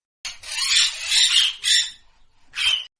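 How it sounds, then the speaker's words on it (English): A parrot call in a sequence of animal sounds: three loud, harsh squawking bursts, the first long, a second shorter, then a brief pause before a final burst, heard alone without talk. "parrot"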